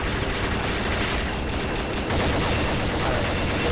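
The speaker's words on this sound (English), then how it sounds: "kill them all with my good gun" Rapid sustained gunfire from the player's weapon in the first-person shooter Combat Arms, dense loud continuous bursts filling the whole stretch with no pauses.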